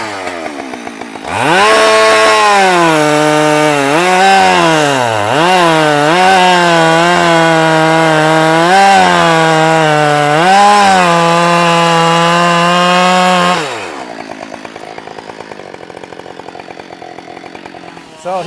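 A Husqvarna 572 chainsaw bogs into firewood close by, its pitch dipping and rising as it cuts for about twelve seconds, then it drops back to a lower idle.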